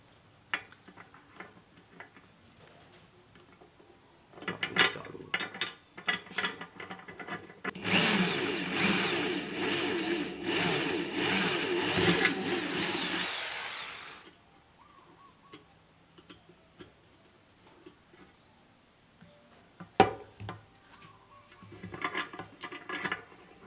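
A power drill whines loudly for several seconds in a steady burst, with quieter tapping and handling clicks before and after.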